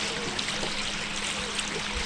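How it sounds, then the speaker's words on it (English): Water flows over a small waterfall feature in a steady, close rush and splash with a soft trickling texture, alone and unbroken. "that is how the waterfall is supposed to look"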